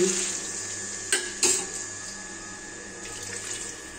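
Water pours steadily into a pan of spiced potato and pointed gourd curry to make the gravy, a continuous rushing stream at close range with a couple of brief clinks.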